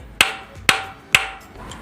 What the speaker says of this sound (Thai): ก็แนะนำให้ใช้ค้อนนะครับเคาะ เคาะเบาๆก่อนนะครับ ให้เกลียวมันคลาย